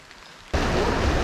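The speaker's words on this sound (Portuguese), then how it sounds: "hoje resolveu cair a chuva, hein?" Heavy rain suddenly bursts into a dense, loud, steady hiss along a rural road in Minas Gerais, following a quiet moment, with no voices.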